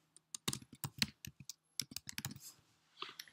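Quick, uneven bursts of clicking keys on a computer keyboard while a name is typed in, close and crisp, with short pauses between the runs of strokes.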